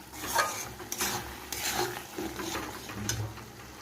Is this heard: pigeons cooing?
no